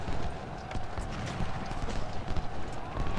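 Horse hooves clopping in Ultimate General: Civil War, a steady dense patter of many hooves under a constant battlefield wash, moderately loud and continuous with no voices.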